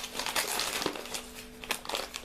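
Old adhesive tape crinkling and being pulled, a quiet, close series of crackly rustles and short tearing bursts with brief pauses between them.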